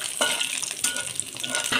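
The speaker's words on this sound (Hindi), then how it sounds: "हल्का सा मेथी डालेंगे, मेथी डाल के चलाएंगे" Fenugreek seeds sizzle in hot oil for a rohu fish curry while a spoon stirs them, giving a close, steady frying hiss with a few sharper scrapes.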